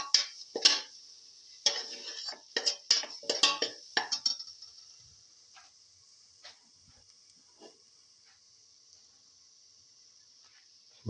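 Utensils scrape and clink against a pot while salted ingredients for a chicken lemon green chili pilaf are mixed, a burst of irregular clatters for about four seconds that then thins to a few faint taps.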